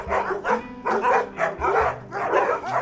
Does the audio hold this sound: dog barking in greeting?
yes